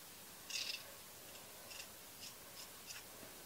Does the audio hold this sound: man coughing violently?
no